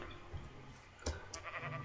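Sheep bleating in the Minecraft video game, a few short bleats scattered across a moment of play, moderately close and fairly soft.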